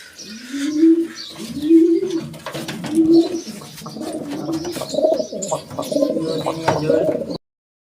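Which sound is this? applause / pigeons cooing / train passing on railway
pigeons cooing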